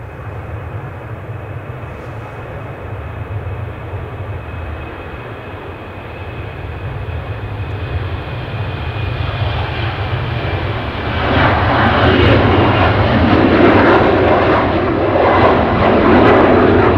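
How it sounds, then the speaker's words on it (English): A TAP Express Portugalia Airlines Embraer E195 LR airliner takes off at Manchester Airport, its jet engine roar building steadily from a distant hum to a loud, broad rush. "next to take off we've got the TAP Express Portugalia Airlines Embraer E195 LR going to Lisbon."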